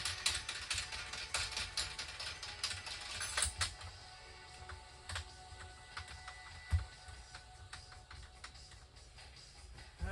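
Tools click and ratchet on bolts of a KTM 150sx power valve, quick irregular metallic ticks and taps close by, quiet overall with no talk.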